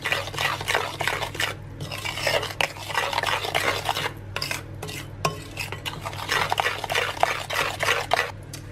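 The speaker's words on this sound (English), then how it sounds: "And mix that in." Spoon scraping and knocking steadily against a bowl as cocoa powder is stirred into gluten-free coconut flour brownie batter, with continuous close clinks and scrapes and no talking.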